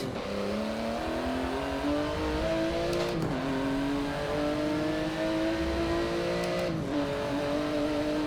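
A race car engine in Forza Motorsport 7, played with a Thrustmaster TS-XW Racer wheel, holds a steady high drone that climbs through the gears, with brief shift dips about every few seconds and no talking.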